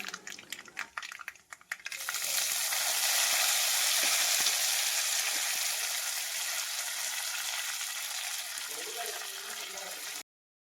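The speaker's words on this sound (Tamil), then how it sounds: "வானலில் வந்து எண்ணெய் ஊற்றி கடுவுளுந்தம் பருப்பை போட்டு நல்லா பொரிய விட்டுலாம்" Urad dal and mustard seeds hit hot oil in a kadai and burst into a loud, steady hissing sizzle that continues evenly, after a few seconds of quiet clatter.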